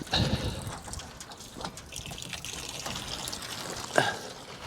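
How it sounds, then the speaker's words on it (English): Water from a windmill pump pipe trickles and splashes into stock tanks in a steady, faint flow, with a few louder splashes and no talk. "A little bit of water goes here, a little bit of water goes over there"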